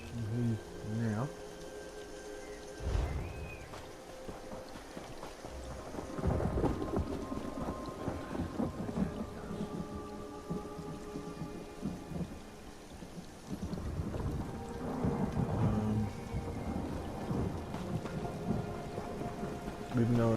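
Rain falls steadily in the video game Elder Scrolls Online Greymoor while thunder rolls and rumbles in deep swells, with a person talking intermittently over the storm.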